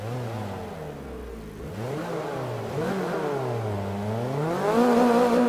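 A race car engine in the Forza 5 driving game revs up and down in smooth rising and falling sweeps, loud and close, building slightly in intensity toward the end with no talking.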